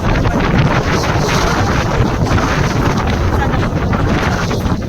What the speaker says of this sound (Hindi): आज भी ज़्यादा हवा चल रही है क्योंकि मौसम ख़राब हो रहा है